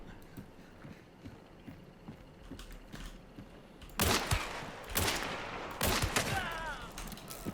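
Gunshots in the shooter game Hunt: Showdown: a few loud, close reports in a cluster near the end, following quieter background game noise, with some talking.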